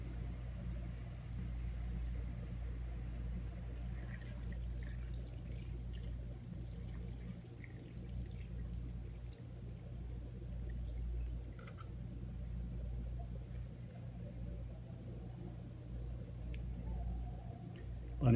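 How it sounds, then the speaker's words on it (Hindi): Water poured into a mutton karahi cooking dhaba style, a steady low pouring and trickling wash that runs throughout at moderate level, with no talk. "तो अब हम डालेंगे इसमें पानी।"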